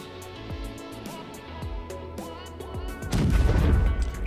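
In a space combat game, an SAS 5 torpedo strikes a Banu Defender ship, landing as a series of heavy booming impacts that build to a loud, dense explosion at the end.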